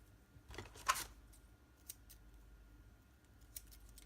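Scissors cut tape in a few quiet, crisp snips close up, with faint scattered clicks and handling noises around them and no talking.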